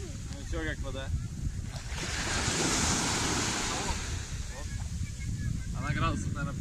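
Surf washing onto a cool-water shore at a holiday camp, a broad rushing swell that builds and fades in the middle, mixed with wind buffeting the microphone while people talk before and after it.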